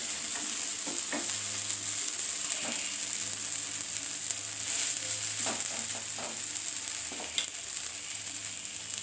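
A rice flour dosa sizzles and fries on a hot pan, a steady close crackling hiss lasting throughout with small pops and occasional scrapes, no voices.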